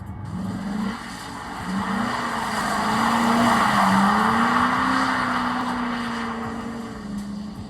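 A Mercedes AMG Hammer's engine drones and rises and falls in pitch as it drives, with a broad hiss of tires on a wet road beneath it, steady and close.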